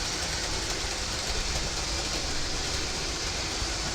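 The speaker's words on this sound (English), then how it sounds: "So let's stop all the trains." Trains running, a continuous broadband rumble and hiss of rail cars moving along the track, steady and moderately loud throughout with no voices.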